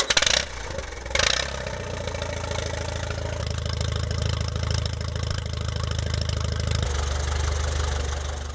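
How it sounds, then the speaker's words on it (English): A 1937 Allis-Chalmers WC farm tractor engine runs close by, opening with two sharp bursts before settling into a steady, low, throbbing idle that continues throughout with no voices. "we're going back in time to learn about a family-owned 1937 Alice Chalmers WC"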